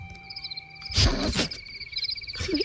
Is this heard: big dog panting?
no